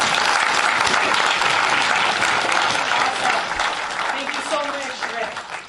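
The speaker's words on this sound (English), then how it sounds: "Applause for Rick." Sustained applause from an audience at a Triad meeting, honoring a presenter named Rick; dense, steady clapping fills the whole span at close range, easing slightly toward the end, with a voice briefly heard over it.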